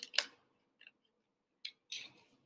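Scissor tips snipping paper slowly around small curves and nooks, a few sharp separate snips and short cuts with gaps between, close and fairly quiet.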